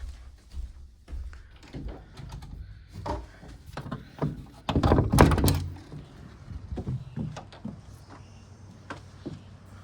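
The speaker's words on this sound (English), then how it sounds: "I am going to pop through the back door and do a loop around the front" The back door of a house in Bennington, Vermont opens and closes, giving a run of thuds and clunks with a louder rattling bang near the middle, along with footsteps and handling noises close by.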